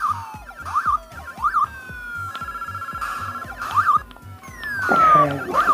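Galaxian shooting effects from a My Arcade Galaga Pocket Player, bright repeated electronic zaps and swooping warbles over a steady pulsing beep rhythm, loud and close with no talking.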